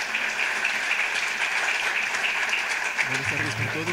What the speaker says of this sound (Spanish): Con el aplauso de ustedes, vamos a recibir a Ramiro Osorio